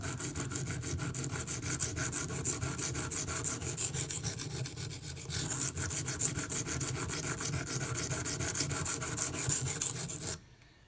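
A Microtech UTX-70 knife blade rasps in continuous strokes across Venev pocket diamond stones, a steady gritty scraping that runs for about ten seconds close up before stopping abruptly.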